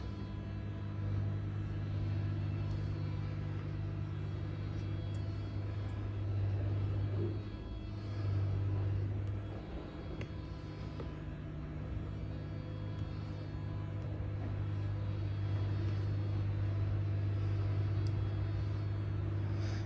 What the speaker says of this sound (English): so this is spinning the wheel forward.